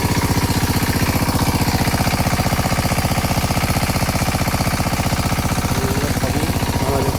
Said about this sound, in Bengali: যে মেশিন চলছে, পাইপে পানি আসছে।